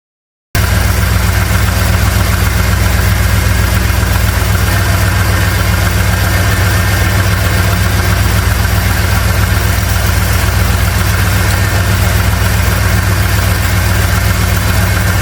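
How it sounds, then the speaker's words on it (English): A third-generation Chevrolet Camaro engine idles in park at working temperature with a steady, continuous low rumble and hum, close and even throughout after a brief silent start, with no voices. "the engine is running, it's on working temperature, it's on parking"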